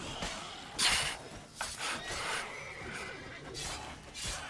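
Horse in the video game The Witcher 3: Wild Hunt neighing and whinnying in several loud, breathy bursts, close and clear, with no talking over it.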